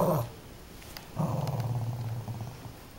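A dog gives a low, rumbling growl during playful bite training, with a brief burst at the start, then a steady close growl lasting nearly two seconds.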